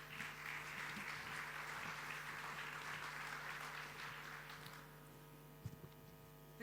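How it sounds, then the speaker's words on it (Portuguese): Audience applause at a European funds showcase event in Porto, a steady dense patter of many hands lasting about five seconds before fading into quiet room tone. "Uma salva de palmas."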